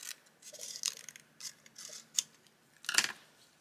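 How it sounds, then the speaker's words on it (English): Loose, wobbly scissors snipping paper for junk journaling: a series of quiet, close crisp snips and clicks at an uneven pace, with a sharper cut near the end. "these scissors are really wobbly."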